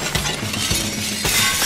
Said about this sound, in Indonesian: Tapi sayangnya, semua kacanya malah pecah.